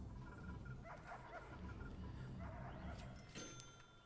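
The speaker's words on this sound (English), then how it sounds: "And I can hear the dog barking." A dog barks faintly in the prison management game Prison Architect, with a few soft yips and woofs heard distantly under a steady background hum.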